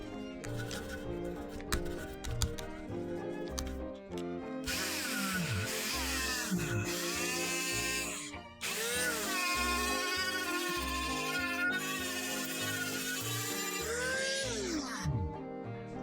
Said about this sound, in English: Let's just get out the old Dremel tool and go to town on it.